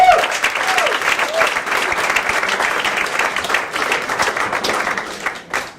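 A comedy club audience applauds a stand-up set steadily with dense clapping that carries on for several seconds and then tapers off, a few cheers and voices mixed in.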